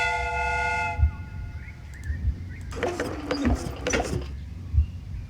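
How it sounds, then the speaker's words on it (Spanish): A replica steam train whistle in the Sherlock Holmes Crimes & Punishments video game gives a short multi-tone blast, followed by hissing bursts of steam over a low, rhythmic rumbling machine chug. "The steam whistle is ready to be used."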